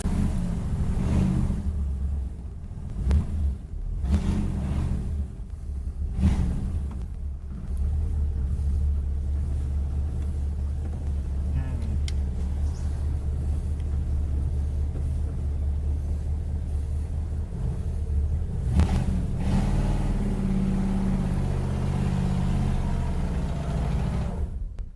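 A Ford Fairlane 500 muscle car engine runs with a heavy low rumble, swelling in a few short revs early on before settling into a steady idle that continues to the end.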